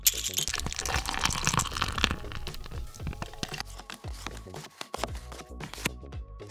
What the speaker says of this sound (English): the sound design is really crucial from when the poker cards are getting shuffled to the beer dropping